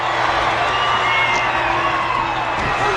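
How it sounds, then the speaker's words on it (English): A large wrestling arena crowd cheering and roaring in a dense, sustained wall of noise, with whoops and shouts rising out of it continuously. "This crowd is going crazy"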